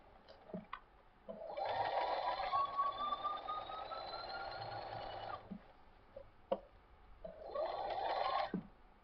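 A sewing machine stitches quilt fabric for a Cosmic Fireworks king size quilt border at a slow speed setting of 2. A steady whirring run of about four seconds is followed by a short pause and then a second, briefer burst, all close and fairly quiet.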